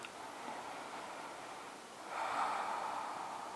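One long, steady breath in a yoga session, a continuous airy exhale that swells slightly toward the end, close and soft with no other sounds.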